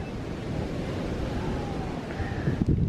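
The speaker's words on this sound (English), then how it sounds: "I'm just closing my eyes, listening to the waves." Ocean waves wash steadily at a Hawaii beach resort, a continuous soft surf wash with some wind noise and a faint clunk near the end.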